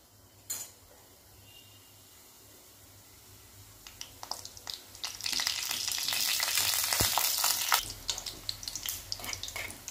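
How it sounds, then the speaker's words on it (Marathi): Dumpling balls for a spicy curry fry in hot oil over medium-low heat. A soft background hiss swells into a loud, steady sizzle with sharp crackles, then eases back down, with no talking. "त्याच्यामध्ये आपल्याला आता हे गोळे तळून घ्यायचे."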